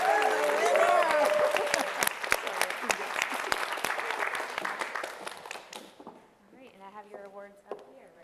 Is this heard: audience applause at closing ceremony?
yes